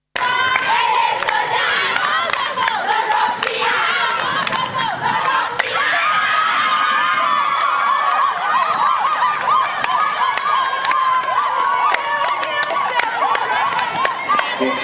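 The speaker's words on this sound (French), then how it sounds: "Applaudissez très fort pour Bulldozer et Caterpillar." A large, dense crowd cheers and shouts continuously at a lively event, the roar loud and unbroken for the whole stretch, with voices calling out over it.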